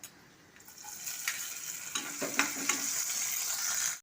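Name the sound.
dried prawns frying in oil in pan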